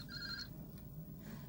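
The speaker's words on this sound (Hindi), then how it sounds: "ये उसी का फोन होगा।" A telephone rings in a classic Hindi TV drama, one short electronic double-tone trill, fairly clear and close, with a faint room hum behind it.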